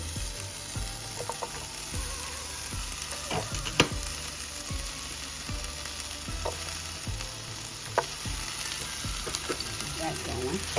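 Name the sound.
onions frying in a pan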